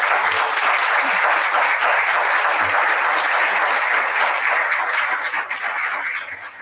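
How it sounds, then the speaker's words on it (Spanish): Loud, full applause from an audience honoring speakers at an event on Indigenous tourism and social inclusion, steady for several seconds before beginning to fade near the end. "Démosle un gran aplauso."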